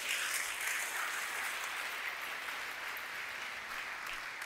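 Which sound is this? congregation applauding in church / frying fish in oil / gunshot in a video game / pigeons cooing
congregation applauding in church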